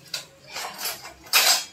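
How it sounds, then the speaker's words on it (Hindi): Metal spoons being pulled out in a home kitchen by a young boy clink and clatter in a few short bursts, with a sharper rattle near the end and no talking. "देखिए कैसे चम्मच निकाल रहा है लड़का"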